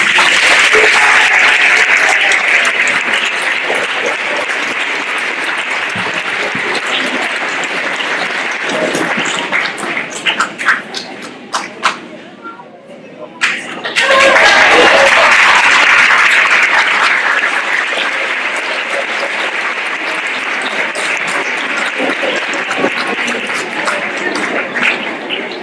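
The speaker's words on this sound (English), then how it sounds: "Let's give a big round of applause, please." A crowd at a naturalization ceremony in a school applauds loudly and at length, the clapping thinning almost to silence midway before swelling again into sustained applause.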